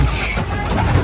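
Homing pigeons cooing as they return from a 40 km release, a low, soft burbling close by that fills the short moment under a steady background hiss.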